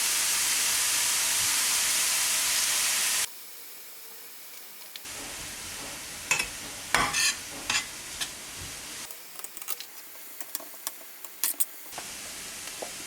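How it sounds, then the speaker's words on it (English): Garlic and onion cooking gently over low heat in a pan, a soft intermittent sizzle with stirring clicks and scrapes, close by, broken by stretches of near quiet. "that's just the garlic and onion, and you just want to cook that until it's soft"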